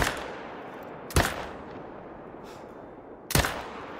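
Two sharp, separate hunting rifle shots in the video game Call of the Wild, a couple of seconds apart, each cracking out over a steady background of outdoor ambience with no talking.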